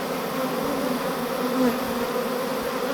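Honey bees being rescued from a ceiling in an agricultural building fill the air with a dense, continuous buzz of many insects flying close by, loud and steady throughout, with no talking.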